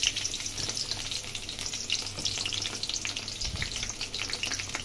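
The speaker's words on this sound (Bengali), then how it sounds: "পেঁয়াজ কুচি আর কাঁচামরিচ দিয়ে দিব" Chopped onion and green chilies fry in hot oil in a wok, a continuous close sizzle with crackling pops and occasional stirring scrapes, no voices.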